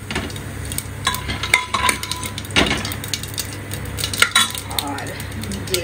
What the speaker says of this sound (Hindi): इसमें ऐड कर देंगे जीरा, और जीरा को हम भून लेंगे ब्राउन होने तक